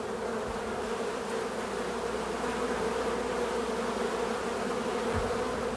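Honey bees swarm over a hive frame, a dense, unbroken buzzing drone that stays loud and close from start to finish, with no talking.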